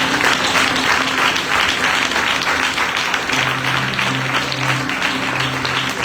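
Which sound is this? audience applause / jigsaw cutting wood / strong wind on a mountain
audience applause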